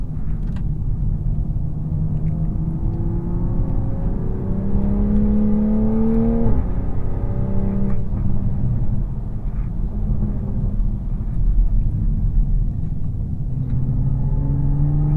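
A Toyota Supra engine drones steadily as the car laps the Interlagos race track, the pitch climbing and dropping through gear changes over a loud, continuous rumble heard from inside the car.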